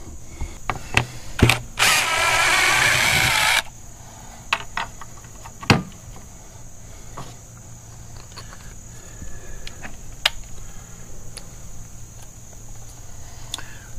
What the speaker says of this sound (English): hopefully my vibrating multi-tool will make quick work of this